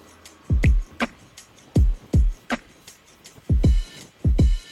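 A soloed, chopped drum loop sequenced on a Native Instruments Maschine, with punchy kick hits and snappy snare and hat strikes in a steady, syncopated pattern, played loud and alone with no talking.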